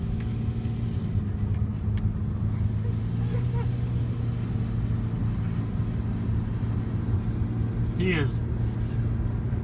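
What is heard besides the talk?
car driving with a friend on the hood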